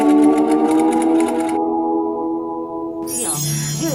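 A household sewing machine quilting a bedspread of Dacron batting on a large workroom table, running steadily with a loud continuous mechanical whir and hum that shifts in pitch near the end.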